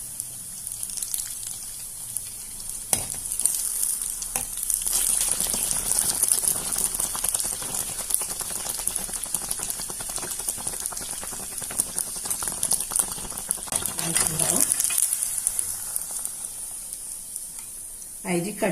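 Kannur muttasirkka, a rice batter cake, fries in a pan over a raised flame with a continuous bubbling sizzle and some sharper crackles, steady and moderately loud throughout.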